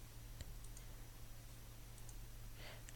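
A computer mouse clicks faintly a few times in a quiet room, isolated sharp ticks spread apart, one slightly louder near the start and a small cluster near the end.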